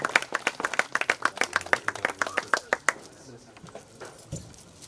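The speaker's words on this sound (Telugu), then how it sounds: "గట్టిగా చప్పట్లు కొట్టి ఆహ్వానం." An audience claps in a quick, even burst to welcome a family onto a stage at an event, loud and close for about three seconds before fading, with a voice speaking over the tail.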